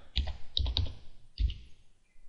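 Keys on a computer keyboard are tapped in a few quick, close clusters of clicks, soft and nearby, with short pauses between them.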